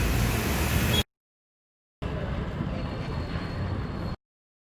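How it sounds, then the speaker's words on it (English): TIG welding on a stainless steel motorcycle exhaust pipe for a Hero Xpulse, heard as a steady, close broadband hiss in two bursts: about a second, a brief silence, then about two more seconds. "Right now we are actually TIG welding."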